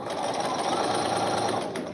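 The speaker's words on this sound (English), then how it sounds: "I'm going to set up the first one underneath my machine, and I'm going to start sewing." A sewing machine chain-sews pieces for a Flowering Cactus quilt block, its fast, steady motor whir and needle chatter continuous and close throughout, with no talk.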